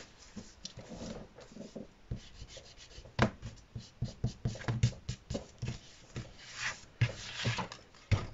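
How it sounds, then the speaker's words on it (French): An eraser rubs out a pencil line on paper while making a Halloween swing card, a soft, close, uneven scrubbing in irregular strokes with light taps, fairly quiet and free of talk. "je vais gommer parce qu'on voit un peu le trait de mon crayon"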